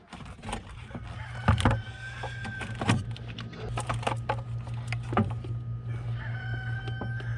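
Chickens cluck and squawk nearby with a rooster-like call, scattered sharp sounds over a steady low hum in the background.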